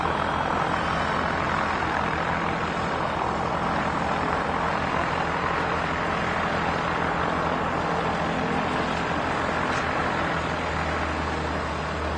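An EV97 Eurostar light aircraft with a big open canopy flies in at Barton Aerodrome, Manchester, during a fly-in event, its steady engine drone continuous and fairly strong throughout with faint background noise.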